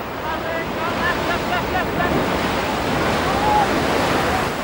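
Ocean surf roars loudly and continuously around a paddler waiting to catch a wave, with rushing water and wind buffeting close to the microphone and faint voices mixed in.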